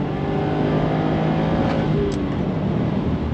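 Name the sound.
Subaru STI accelerating on a track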